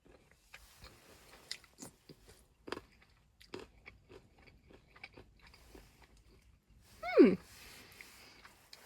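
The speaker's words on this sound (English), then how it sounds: "The banana chips are crunchy." Crunchy banana chips bitten and chewed during an Iceland road trip, a run of close, crisp crunches and small cracks spread through the clip, ending in a louder vocal sound.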